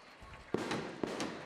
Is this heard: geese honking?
no